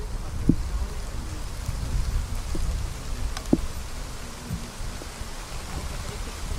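Steady rain falling outdoors where a puppy has been left out, a continuous moderate patter on surfaces with a few sharper drips standing out, and no one speaking.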